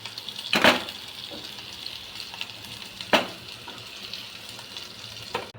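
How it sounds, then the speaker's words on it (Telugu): Potatoes frying in hot oil give a steady low sizzle, broken by two sharp bright scrapes or clatters of a utensil, close and moderately quiet, with no one speaking. "ఆలు ఫ్రై చేసుకుందామండి"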